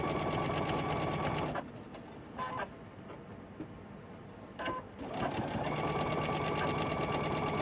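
A sewing machine stitches in rapid mechanical bursts, running steadily, pausing briefly in the middle with a couple of short clicks, then resuming its even rattling run.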